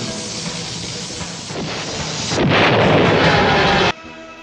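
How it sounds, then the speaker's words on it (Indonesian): A loud, sustained explosion of a missile in the sky roars up and swells into a blast, then cuts off abruptly, leaving a quieter rumble. "Bara Missiler musnah meledak di angkasa"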